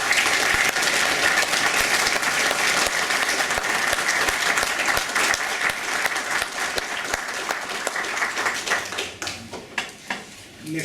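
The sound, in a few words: audience applause at an inauguration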